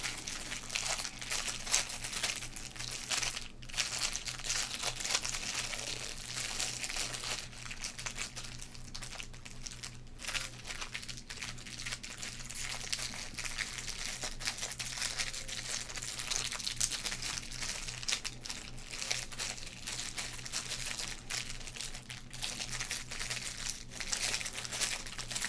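Close, continuous crinkling of a very thin football card pack wrapper, dense crackling texture sustained throughout with small irregular bursts, no talking.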